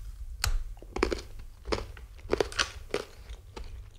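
Crispy coffee and hazelnut biscuits with baobab fruit are bitten and chewed close to the mic, giving a run of sharp, dry crunches at an uneven rhythm, with no talking.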